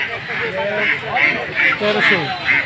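Several Chinese ducks quack repeatedly in short bursts close by at a market, with people talking over them throughout.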